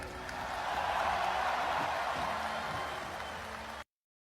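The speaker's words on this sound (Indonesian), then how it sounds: "Tepuk tangannya kurang semangat." Crowd applause at an Indonesian political gathering, a fairly quiet, steady wash of clapping running about four seconds before cutting off abruptly.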